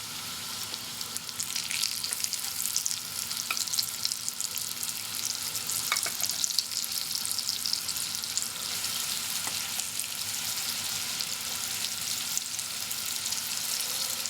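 Chicken pieces fry in shimmering hot oil in a black pot over medium-high heat, a dense, even crackling sizzle that holds steady throughout, close up with no voices.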